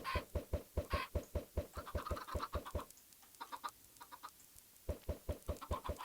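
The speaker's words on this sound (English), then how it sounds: "those chickens have grown up now and are full, ripe and plump, ready for basting and cooking" Chickens clucking in the video game Minecraft, a run of rapid, evenly spaced clucks that stops briefly and then resumes, fairly quiet, with no talking.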